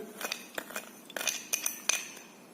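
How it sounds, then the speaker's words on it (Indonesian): Sugar goes into a glass of hot water, with a scatter of faint clinks and light taps against the glass, quiet and close without speech. "masukkan gula ke gelas ini"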